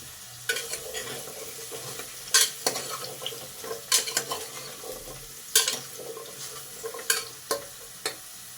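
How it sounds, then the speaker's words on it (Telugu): Carrot pieces frying in ghee inside a pressure cooker, a ladle scraping and knocking against the metal in irregular bursts over a soft continuous sizzle. "కుక్కర్లో వేసిన తర్వాత గరిటె పెట్టి మిక్స్ చేసుకుందాం"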